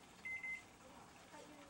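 A kitchen timer set for about 12 minutes while Cajun chicken penne pasta cooks gives a short run of two or three quick, shrill electronic beeps, faint and close, with quiet room noise after.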